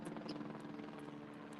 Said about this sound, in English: there's a news chopper in the air